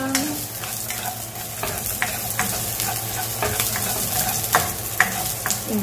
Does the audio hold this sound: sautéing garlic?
yes